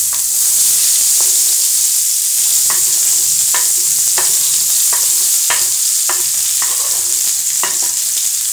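Fish frying in a pan for a meal with cabbage and ugali, a loud steady sizzle with repeated scraping stirs from a utensil.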